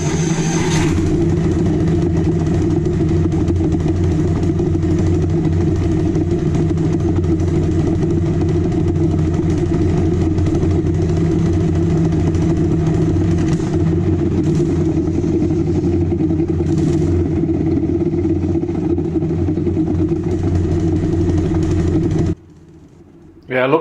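A John Deere 6X4 Gator's engine runs steadily after its carburetor was cleaned, a loud, even idle holding for over twenty seconds before cutting out abruptly near the end.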